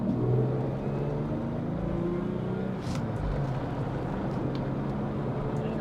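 A 1988 Jaguar XJ-S with a manual gearbox revs as it drives, a steady engine drone whose pitch climbs and dips through the run, loud and close with no one speaking over it.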